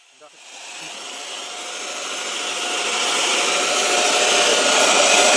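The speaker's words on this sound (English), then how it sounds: "I've got the vacuum attachment on there, and I'm going to turn it on to the highest speed." A keyboard cleaner with a vacuum attachment switches on and spins up to its highest speed, a loud, close, steady whine and rush of air that rises and keeps building over a few seconds, with no talking.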